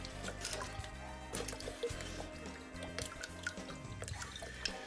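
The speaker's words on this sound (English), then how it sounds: "I'm gonna add some more Worcestershire sauce." Worcestershire sauce dripping and splashing into a dill pickle Bloody Mary, a run of soft liquid drips and small splashes repeating over a steady low background hum.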